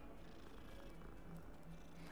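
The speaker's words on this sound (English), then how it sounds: "You can pet cats." A cat purrs while being petted in the video game Hogwarts Legacy, a faint, low, continuous rumbling purr over a quiet ambient background.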